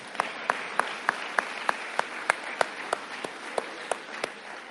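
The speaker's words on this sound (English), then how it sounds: "So I would clap just for that." Audience clapping at a city State of the City address, heard as sparse, evenly spaced individual claps standing out over a quieter applause bed, fairly close and regular.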